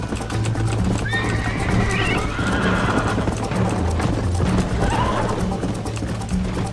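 A horse whinnies loudly near the start while steady clip-clop hoofbeats and other horse sounds run throughout, fairly close and prominent, with a few faint voices.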